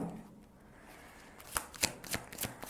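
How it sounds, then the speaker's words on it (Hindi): Energy oracle cards being shuffled by hand, a series of crisp riffling bursts that begin after a quiet stretch and grow more frequent, recorded close up with no talking. "So let's see with the energy Oracle cards हम लोग 2 कार्ड निकालेंगे।"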